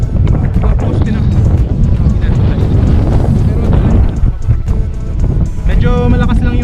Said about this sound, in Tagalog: medyo malakas lang yung hangin guys